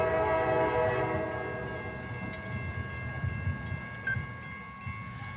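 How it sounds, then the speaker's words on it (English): A CSX train led by two engines approaches the depot in Decatur, Georgia, a fairly distant rumble with sustained horn tones at the start that fade into steady rolling noise. "there's a train coming"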